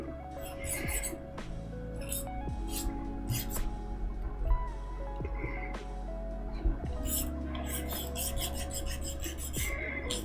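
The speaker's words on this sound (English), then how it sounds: "Once again, I'm just filing it flat." A nail file rasps across a fingernail to flatten it, giving soft repeated scraping strokes, faint and close, with small clinks between them.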